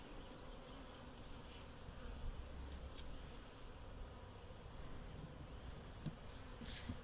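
Steady droning buzz of many honey bees, dense and continuous, with a few faint higher buzzes passing close by.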